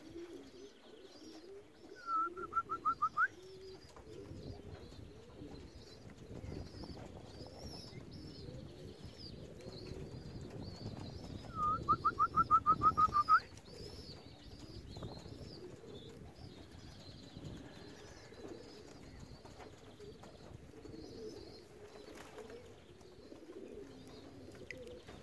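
Racing pigeons coo softly throughout at moderate distance, with two short bursts of rapid wing flapping as birds take off or land outdoors during training.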